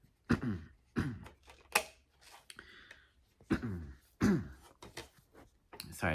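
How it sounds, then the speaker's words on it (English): A single person clears their throat several times in short, rasping bursts, close and fairly loud, with small pauses between each rough vocal catch. "Sorry to clear my throat there"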